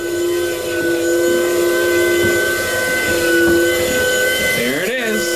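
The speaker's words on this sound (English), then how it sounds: "Do you want to see a steam engine?" A loud steam engine on an off-grid micro hydro system hisses and whistles steadily in a sustained tonal blast, with a brief voice underneath near the end.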